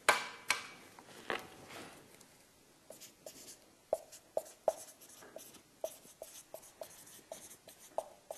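A pen or chalk writes a mathematical formula, giving a quiet run of short scratching strokes and sharp taps in an irregular rhythm, close and faint, with no speech.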